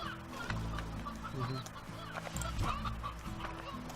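Chickens from the video game Slime Rancher cluck softly and intermittently over a low, steady background hum, with a few brief clicks and bumps scattered throughout.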